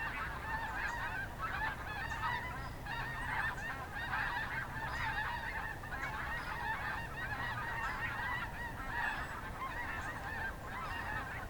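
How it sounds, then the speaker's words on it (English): A large flock of about a hundred geese honks continuously, many overlapping calls forming a dense, steady clamor with no talking. "That must be like 100 geese or more"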